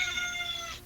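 A cat gives one short, fairly faint meow that fades out quickly, heard alone with no talking.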